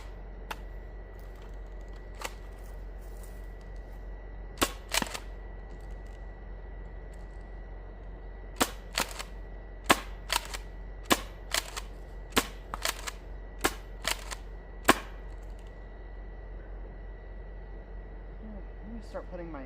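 A foam dart blaster fed from a Katana magazine fires Dart Zone Ember darts, producing sharp snapping shots, single and in quick clusters, over a steady background hum.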